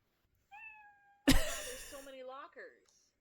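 A cat in the video game The Hanged Man meows, a short tonal call followed by a louder, longer meow with a sharp onset, heard clearly with no talking.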